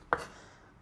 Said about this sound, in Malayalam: ഞാൻ ആദ്യം ഈ 4 വെണ്ടക്ക അരിഞ്ഞു നോക്കട്ടെ.